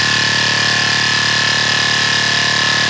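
A razor sustain bass made in the Serum synth, with two patches layered together, plays as one loud, dense, buzzing tone that holds steady for about three seconds.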